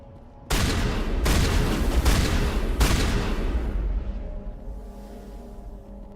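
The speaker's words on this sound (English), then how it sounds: "Shotgun's pretty loud too." Several loud, sharp shotgun blasts in the Mass Effect video game, about four in quick succession, each with a long booming tail that fades into a low ambient hum.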